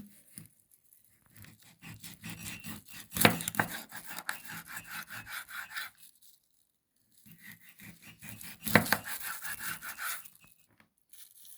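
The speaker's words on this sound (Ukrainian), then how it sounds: "ріжемо скумбрію на шматочки" A knife cutting mackerel into pieces on a board, each stroke a close, soft rubbing slice followed by a sharper thud as the blade meets the wood, in two separate bursts with a pause between.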